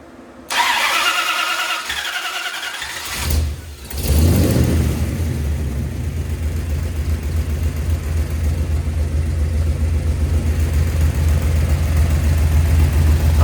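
A car engine fitted with a new flat tappet camshaft and lifters cranks, catches and settles into a steady, loud, close idle that runs evenly for about ten seconds.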